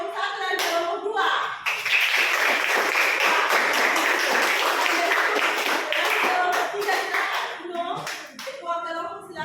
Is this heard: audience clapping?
yes